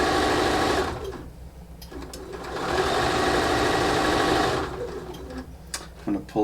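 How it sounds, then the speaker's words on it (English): A sewing machine stitches fabric applique slowly and steadily, its motor running in a close, loud buzz that pauses briefly near the middle before resuming. "I'm going to sew very slowly now."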